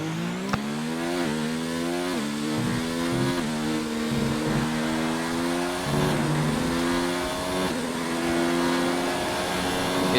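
A race car engine screams loud and close in a German GP racing game, winding up through a lap. The high whine climbs repeatedly, with quick dips at each gear shift, and it continues alone without any talk.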